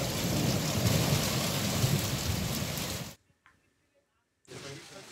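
Heavy thunderstorm rain with rumbling thunder in the west of Hesse and the Rhine-Main area, a loud dense roar that breaks off into silence and then resumes.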